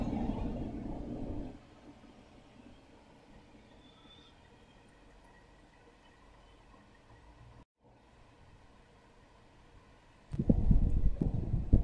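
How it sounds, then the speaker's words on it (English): A Campo 400,000 BTU heater on a 25-foot, 1-inch gas hose purges air from the line: a loud rushing roar drops to a low steady hum, then surges back loudly near the end. "It's purging all the air out of the gas line."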